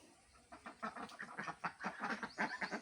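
A small flock of four or five village ducks calls in a rapid run of short, nasal quacks and clucks, close by and fairly soft, with no talking.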